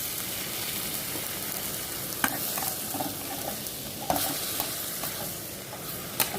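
Curry sautéing in a pan with a steady frying sizzle and stirring scrapes, a few sharp spoon knocks standing out; no splash of added water is evident.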